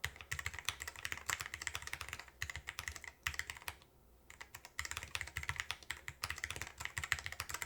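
Fast, continuous typing on a low-profile split wireless keyboard, crisp clattering keystrokes in close, busy bursts with one brief pause midway and no talk.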